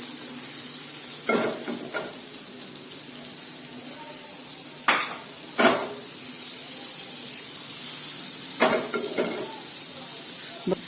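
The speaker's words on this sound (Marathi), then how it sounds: "बटर छान पिघलू द्यायचं." Butter melts and sizzles in a pan with a steady frying hiss, broken by a few clinks and scrapes of stirring, close by and without talking.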